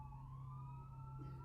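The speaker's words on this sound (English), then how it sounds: "There's a bunch of ambulances going around." Ambulance sirens wail faintly in the distance near a house, a thin rising and falling tone over a steady low hum, no voices.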